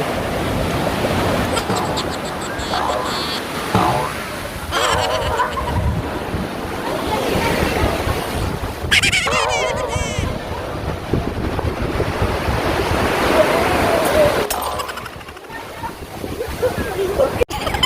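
Ocean waves wash onto the shore of Brittania Island, with continuous surf and heavy wind buffeting the microphone; the rush swells and fades several times.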